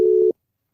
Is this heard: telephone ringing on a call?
yes